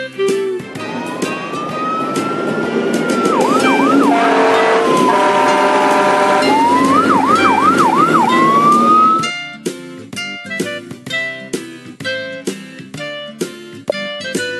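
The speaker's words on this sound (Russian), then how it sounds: "Пожарная машина мчит, пожар тушить она спешит." A cartoon fire truck's siren wails in rising and warbling sweeps over a bright musical backing, loud and upfront, then gives way to plucky rhythmic music hits.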